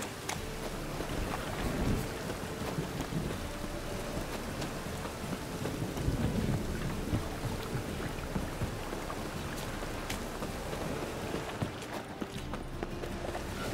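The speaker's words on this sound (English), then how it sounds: "Rain like this would fetch a fortune in Zerrikale." Steady rain with low thunder rumbles in a fantasy video game, a dense continuous wash of rainfall throughout with a deeper roll near the middle and faint game sounds underneath.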